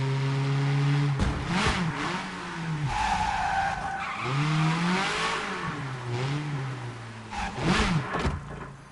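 Car engine in the Wreckreation racing game straining uphill with shifting revs, tyre skids and squeals, loud and continuous with no talking.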